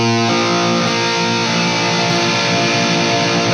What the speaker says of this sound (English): So the fifth string is ringing out and the first string is ringing out.